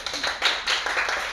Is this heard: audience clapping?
yes